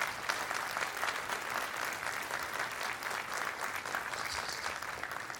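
Sustained applause from a commencement ceremony audience, a dense even patter of many hands clapping continuously at moderate distance, with no voices standing out.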